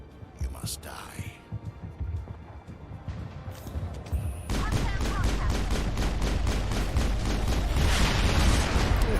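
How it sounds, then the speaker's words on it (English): Rapid gunshots from the God Pistol in the video game Mass Effect, a dense, steady burst of firing building loud after a quieter stretch of speech and combat noise. "A few rounds from the God Pistol should sort them out."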